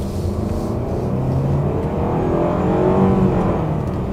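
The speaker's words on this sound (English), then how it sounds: "we just did a little bit of an acceleration there" A Mitsubishi Outlander SUV accelerating on the road, heard from inside the cabin as a steady, fairly loud engine drone that swells gently under road rumble, with no talking.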